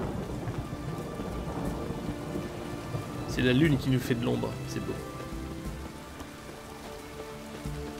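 Steady rain and a low rumble of thunder in the video game The Witcher 3: Wild Hunt, with a brief spoken line in French in the middle.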